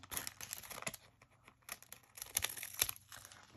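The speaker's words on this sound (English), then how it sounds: "So you just take your pinking shears and you just cut along the top." Pinking shears cut along the top of a thin glassine bag, a run of crisp, irregular snips and crinkles up close, quiet and alone.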